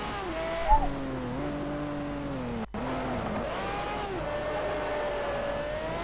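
Race car engine in the racing game Need for Speed Shift, a tonal revving whine that climbs and drops through gear changes, with a brief tire squeal and a short cut partway through.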